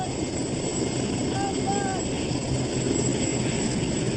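A rescue helicopter flies low over treetops, its engine and rotor producing a steady, loud roar that runs throughout, with a few faint chirps and a voice talking over the din.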